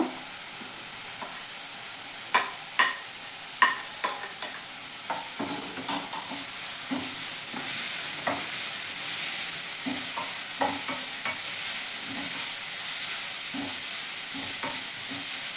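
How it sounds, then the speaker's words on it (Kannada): Capsicum and carrot stir-fry in a pan for veg momo filling, a soft steady sizzle with a spoon clacking and scraping against the pan in irregular strokes, close and without talk. "ಇದು ಸ್ವಲ್ಪ ಫ್ರೈ ಆಗಬೇಕು."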